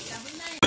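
Dried fish fries in oil in a kadai with a brief, steady hiss, cut off by a short louder burst at the end.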